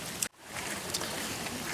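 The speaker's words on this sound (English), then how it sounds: "the rain is making it less entertaining" Soft, steady rain hiss in Kanazawa, Japan, with occasional drip ticks, fairly faint and continuous, broken briefly by a moment of quiet.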